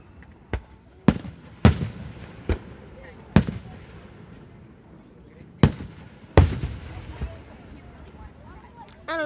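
Fourth of July fireworks burst outdoors in a string of sharp, irregular booms and crackles, several loud reports spaced a second or two apart with soft talk and crowd noise between them.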